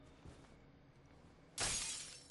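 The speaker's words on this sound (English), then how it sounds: "Sorry about smashing our window." A window breaks in the zombie survival game State of Decay, one sudden loud crash of shattering glass with a bright spray of shards fading out after a stretch of quiet ambience.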